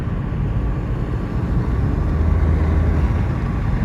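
Honda Civic engine revving as the gas pedal is pressed on a rainy drive, a steady low drone that swells slightly, heard from inside the car with no talking.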